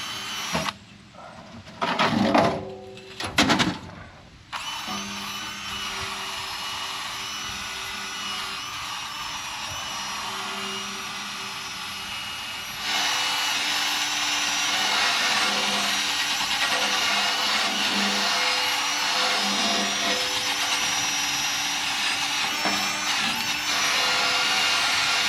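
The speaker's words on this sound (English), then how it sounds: "Let's get sanding and spraying." A wooden barrel sauna being renovated by sanding and spraying: a loud, steady power-tool whine runs throughout, with a few sharp bursts early on and a denser, brighter roar in the second half.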